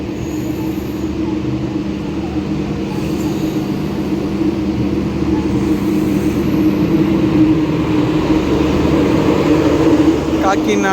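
LHB coaches of the Tirupati–Kakinada Express 17249 on its first LHB run, heard from inside as a steady loud rumble of wheels and running gear with a constant hum, continuous throughout.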